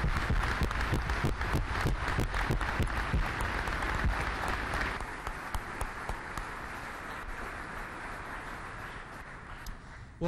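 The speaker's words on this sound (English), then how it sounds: "let's give them one last round of applause" An audience at an Army town hall in Vicenza, Italy, breaks into sustained applause, dense clapping that stays strong for several seconds, then thins and softens toward the end.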